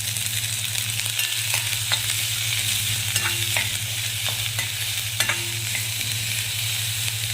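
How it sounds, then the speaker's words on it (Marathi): Masala paste and chopped capsicum sauté in hot oil in a pan, a steady sizzle running throughout with a low hum beneath and a few sharp scrapes and clicks of a spatula. "दोन मिनिटांसाठी परतून घ्यायची"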